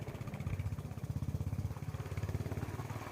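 A motorbike ridden along a road in the evening hills between Anaikatti and the Palakkad border, its engine thumping in a fast, even pulse up close and loud throughout, with no voices.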